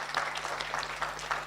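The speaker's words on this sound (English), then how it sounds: "please give all of us, please, a warm round of applause once again" Audience applause at a Kenyan International Human Rights Day commemoration, a steady dense patter of many hands clapping together throughout, moderately loud and without pauses.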